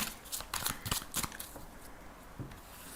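A tarot deck is shuffled by hand in a quiet room, producing a quick burst of crisp riffling card flutters early on, followed by a few softer taps as the cards settle.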